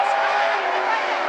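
Street stock race cars at South Sound Speedway roar side by side, a loud steady engine drone at close range with no break.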